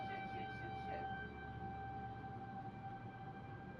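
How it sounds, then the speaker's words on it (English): In the Helldivers 2 game, a tornado siren wails as a steady droning tone held at a constant pitch, faint and somewhat distant beneath a low rumble. "Tornado siren."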